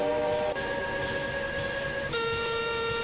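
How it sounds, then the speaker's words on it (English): Train engines whistling together at an old iron bridge, sustained tonal steam whistles that shift pitch and layer over a rumbling background, loud and continuous. "The engines all whistled in delight."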